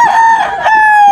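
A rooster, one of a breeder's fighting chickens, gives a single long, loud crow close by, its strained tone holding steady to the end without talk.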